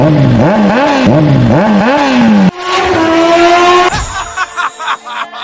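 Cartoon motorbikes revving and pulling away, a loud engine note rising and falling in repeated surges before shifting to a steady higher whine and then a burst of clattering effects.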